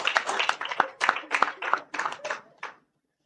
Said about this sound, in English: Can we give Representative Zamora a round of applause?